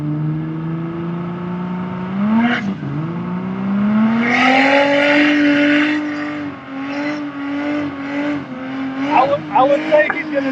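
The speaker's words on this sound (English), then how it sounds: "Let's see if the Comanche's gonna do a big burnout." A Comanche pickup truck with a turbo 4-liter engine revs hard during a burnout, its engine note climbing and holding with rising roars and squealing bursts, heard from a moderate distance with crowd noise and scattered voices around.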